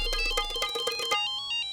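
A mobile phone ringtone chimes in a bright repeating electronic melody at steady moderate volume, ringing out alone for over a second before the tones thin out.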